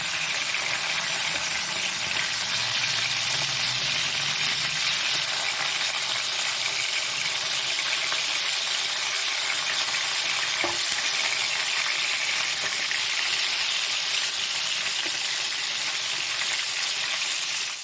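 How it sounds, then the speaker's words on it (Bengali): Pieces of bhetki fish fry lightly in hot oil, giving a steady, dense sizzle that holds at an even level for the whole stretch, with a faint clink near the middle. "মাছগুলোকে হালকা লাল লাল করে ভেজে নেব। বেশি করে ভাজবো না, হালকা করে ভাজবো।"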